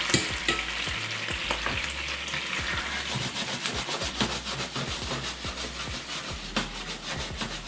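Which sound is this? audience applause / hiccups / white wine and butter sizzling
white wine and butter sizzling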